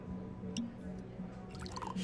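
A drink is poured into a glass in the video game Life is Strange: True Colors, a short, soft trickle and drip of liquid heard close by under quiet game voices.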